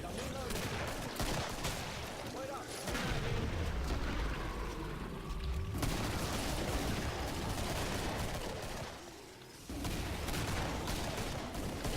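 Shotgun fire in the video game Killing Floor comes in heavy blasts amid a loud, dense barrage of game combat noise, with a short lull near the end before it resumes.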